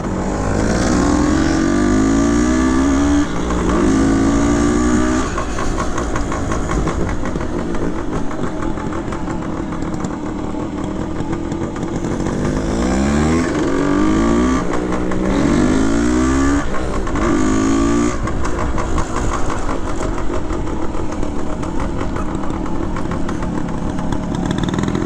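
Two-stroke engines of 1971 Yamaha RT1 360 motorcycles ridden off-road, loud and close throughout, revving up and down through repeated accelerations with a buzzy, rattling exhaust note and steady running between surges.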